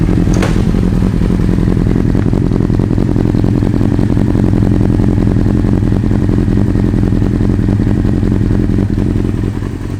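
A 2005 Kawasaki ZZR 600 motorcycle with 7,403 miles idles close and loud, its engine puttering in an even, steady rhythm throughout.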